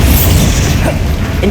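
Loud, dense booming blasts from the Confringo and Bombarda explosive spells in Hogwarts Legacy fill the space in a continuous rumbling roar.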